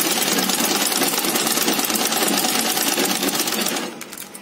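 A sewing machine stitches strips of waterproof fabric for a homemade face shield, running fast and steady with a dense, rapid needle rhythm, then slowing and stopping near the end.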